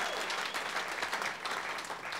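Audience applause at a comedy podcast taping, steady dense clapping from a crowd for the whole stretch, fairly distant and even in level.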